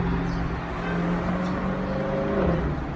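A Jeep with the 392 V8 engine cruises along a highway, a steady, continuous engine drone with a low rumble that holds even throughout, fairly close, with no talk over it.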